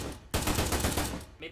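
Dense automatic gunfire in ArmA 3, a military combat game, with a BTR armored vehicle in the fight: a sudden loud burst of rapid overlapping shots that starts abruptly and trails off, with a voice briefly audible near the end.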